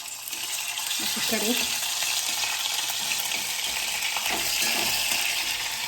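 Chopped green chillies hitting hot oil in a frying pan, cooking a Marathi-style amaranth (माठाची) leaf dish, give a sudden loud, steady sizzle that holds for several seconds with faint stirring scrapes.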